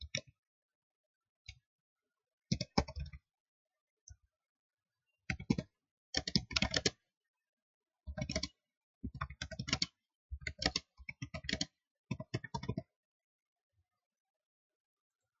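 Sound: typing text on a computer keyboard

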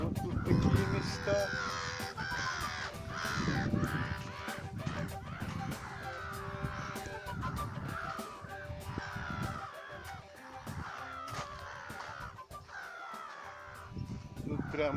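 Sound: seagulls crying

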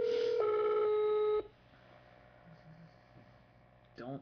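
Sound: telephone ringing

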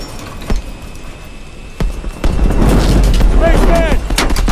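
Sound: heavy enemy gunfire in Call of Duty: Advanced Warfare video game

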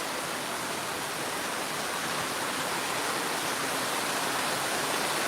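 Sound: heavy rain pouring, water running over the tarred village road

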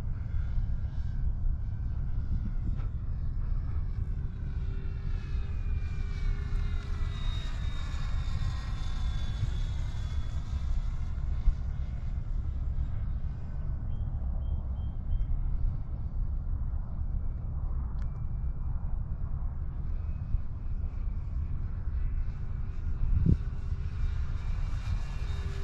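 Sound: E-Flite Cirrus SR22T radio-controlled model plane flying

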